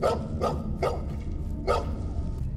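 A dog barks in a horror video game, four or five sharp barks at an uneven pace over a low droning background, moderately distant.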